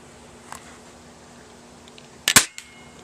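An airsoft pump shotgun fires a single BB outdoors: one sharp, close snapping crack, preceded by a faint click and followed by a short trailing rattle, otherwise quiet background.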